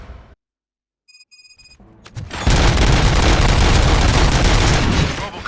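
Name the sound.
gunfire in the video game RoboCop: Rogue City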